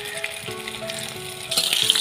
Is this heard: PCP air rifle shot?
no